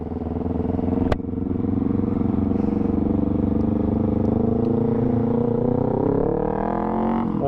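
A Yamaha R25 motorcycle engine without its original exhaust idles and runs continuously close up, a loud rumbling drone with a brief click near the start.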